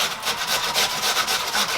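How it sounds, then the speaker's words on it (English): Potatoes are grated by hand on a grater, making a close, steady rasping scrape with a gently pulsing back-and-forth rhythm and no talk. "So you don't have to grate the last part."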